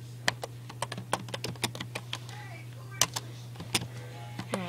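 Typing on a computer keyboard while entering a game command, quick uneven key clicks up close over a steady low electrical hum.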